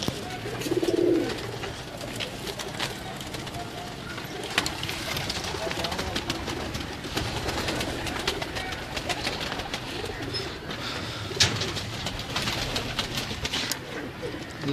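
A flock of pigeons in a loft keeps up a continuous low cooing murmur, with soft scuffs and occasional sharper knocks against a busy, steady background.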